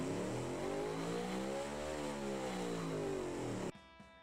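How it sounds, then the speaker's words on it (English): A 1000hp NASCAR-style engine in the Automation car-building game revs up and back down in one long sweeping pull, a loud steady drone that cuts off abruptly near the end, leaving faint ping tones. "Yeah, it does sound like a NASCAR engine"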